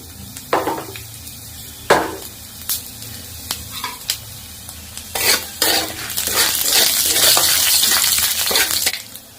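Whole spices frying in hot oil: dried red chilli, cinnamon, four cardamom pods and cumin seeds, with a rising crackling sizzle under sharp spoon-on-pan scrapes that grows busier toward the end.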